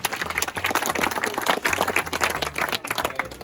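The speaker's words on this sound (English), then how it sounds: "give a cheer for her" A crowd of parkrun participants gathered by a pier in Stranraer applauds and cheers for the tail walker, a dense, steady burst of clapping lasting a few seconds with no talk over it.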